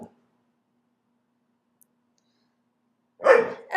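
A dog lets out a single loud, close bark at the very end, after a long stretch of near silence.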